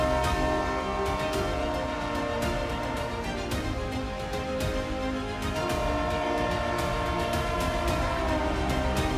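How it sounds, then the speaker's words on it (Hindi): India's hydrogen-powered Namo Green Rail train running on its tracks between Jind and Sonipat gives a loud, continuous rumble of rolling wheels with sustained horn-like tones. "यही है भारतीय रेलवे में वो नई क्रांति जो पटरी पर उतर चुकी है"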